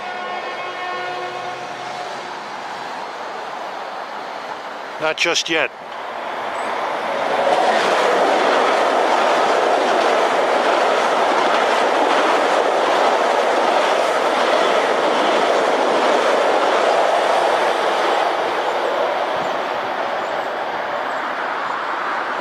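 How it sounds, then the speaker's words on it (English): A Long Island Rail Road train bound from Huntington to New York City sounds a horn blast, then rumbles loudly past with steady clattering that fills the rest of the scene; someone speaks briefly near the start. "I'm going to catch train 1717 from Huntington to New York City"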